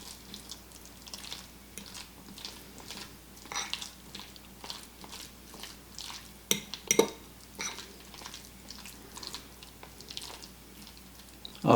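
Chicken salad sandwich ingredients are tossed in a bowl, making soft repeated wet squelches and light scraping, with a couple of sharper knocks near the middle.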